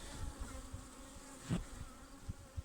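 Anatolian honeybees buzz at a hive in May, a close, continuous hum with individual bees droning past the microphone.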